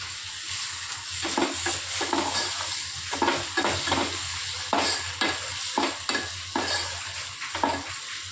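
Onion and tomato fry in a pan, giving a steady sizzle beneath repeated scraping stirs that come in a loose rhythm of a spoon moving through the mixture.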